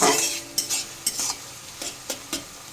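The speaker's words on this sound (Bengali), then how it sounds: "পেঁয়াজটা লাল লাল করে ভাজা হয়ে গেছে।" Onions fry in oil with sugar for a Kolkata-style ghugni, a soft sizzle broken by repeated scraping stirs of a spoon against the pan, close and without talk.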